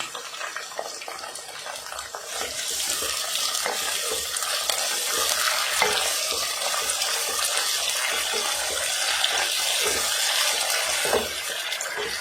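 Sliced capsicum and tomato sautéing in a pan for pulao, a continuous bright sizzle and hiss with light stirring scrapes, steady and moderately loud across the whole stretch, no voices.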